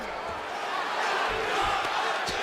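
Arena crowd noise from the UFC 5 video game, a steady roar of many voices swelling slightly through the middle, with faint thuds underneath and no clear talk.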